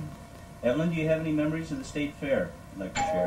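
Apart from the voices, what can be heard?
doorbell ringing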